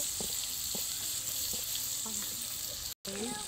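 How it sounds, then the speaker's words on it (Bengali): Onions frying in a pan, a soft continuous sizzle with light scraping stir strokes and small clinks, fairly quiet and close, cut by a brief dropout near the end. "আস্তে আস্তে পেঁয়াজ লাল হয়ে আসছে, আর কিছুক্ষণ ভাজতে হবে"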